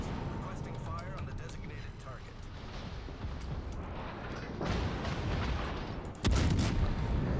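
Warship guns firing HE shells in World of Warships, a Stalingrad battle, boom and rumble under steady talk, with a heavier salvo near the end and louder blasts following.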